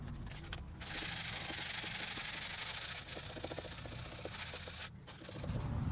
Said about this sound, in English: Then with some 320 sandpaper, I can clean up the rest, and I'm going to sand as much as I can of the back plate here as well